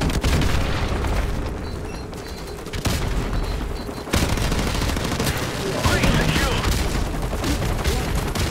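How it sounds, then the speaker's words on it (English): Grenade explosions and rapid gunfire in the online shooter game Call of Duty 4 Remastered form a dense, loud barrage of booms and automatic fire with hardly a pause, and a voice speaks over parts of it. "Damn, too many grenades!"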